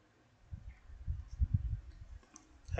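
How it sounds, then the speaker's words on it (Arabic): A computer mouse clicks quietly while selecting items in a work-schedule chart program: a few soft, close clicks and light thumps spaced irregularly, with one sharper click at the end and no talking. "راح اضغط عليها"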